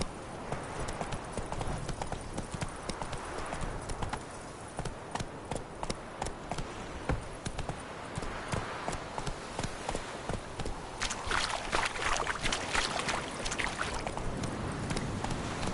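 Roach, Geralt's horse in The Witcher 3, clip-clops at a steady walking rhythm on hard ground, the hoofbeats clear and close under ambient game sound, the pace picking up slightly near the end.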